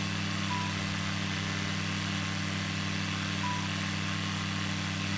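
A Cessna aircraft engine in a flight simulator drones at a steady, unbroken pitch, a constant close hum with no rise or fall and no voices.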